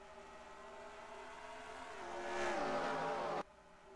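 Engines from the NASCAR Racing 2003 video game drone steadily at an oval race at New Hampshire, swelling louder as cars pass and then cutting off abruptly, with no talking.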